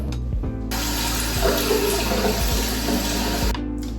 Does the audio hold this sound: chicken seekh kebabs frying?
no